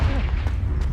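In Hogwarts Legacy, a Confringo blasting spell explodes, giving a single short, low boom that rumbles briefly and then fades.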